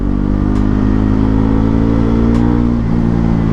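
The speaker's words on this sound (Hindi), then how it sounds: "बट यस 4000 RPM से लेके लेट मी गो अबव 5000।" A Bajaj Pulsar NS400Z motorcycle engine revs steadily past 5000 RPM, a loud, continuous close-up drone that holds level throughout.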